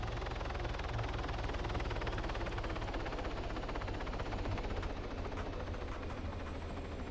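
A helicopter runs steadily nearby with a continuous low rotor thrum and engine roar, unchanging and filling the whole stretch without any voices.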